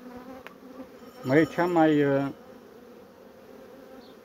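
Honeybees on a hive frame during a spring hive expansion after wintering give a short, rising buzz that swells close by, with a faint background drone and a brief spoken word nearby.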